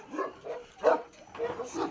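A dog gives a few short barks and whimpery yips, loud and fairly close, in uneven bursts.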